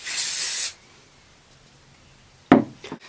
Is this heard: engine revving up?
no